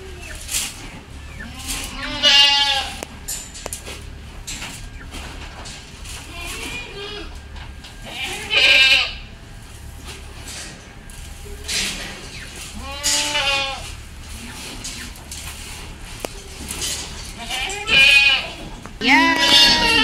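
A group of goats bleat repeatedly at feeding time on a farm. The bleats are loud, wavering and come in bursts from several animals over a murmur of background noise, and people talk nearby.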